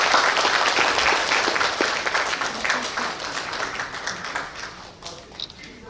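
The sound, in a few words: audience applause during flower presentation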